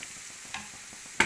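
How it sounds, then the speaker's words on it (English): Garlic sauce sizzles quietly in a pan with a little added water, a soft continuous hiss broken by faint stirring scrapes and a sharper clink near the end. "Okay, so you're frying this for some time."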